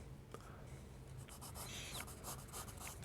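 A pencil scratches and rubs across paper in a sketchbook, quick close strokes in uneven bursts over a faint low hum, with no talking.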